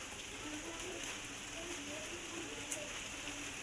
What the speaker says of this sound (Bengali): আর এই যে বাইরে তো বৃষ্টি কন্টিনিউ হচ্ছে।